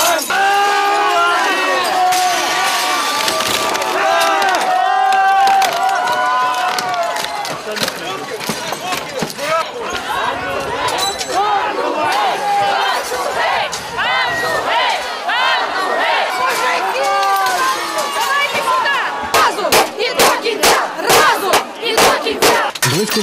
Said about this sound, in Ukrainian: Обурені мітингувальники взялися їх виламувати.